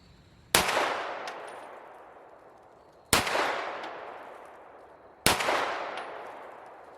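Three shots from an FNS 9 9mm pistol at a shooting range, each a sharp loud crack with a long decaying echo, spaced about two and a half seconds apart with no talk.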